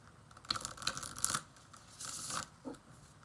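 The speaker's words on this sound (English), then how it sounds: "I love the way cards sound when they shuffle." A deck of tarot cards is shuffled by hand up close, giving a few short, crisp riffling bursts separated by brief pauses, with no voices.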